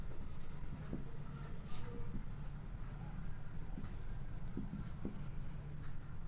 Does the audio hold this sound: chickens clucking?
no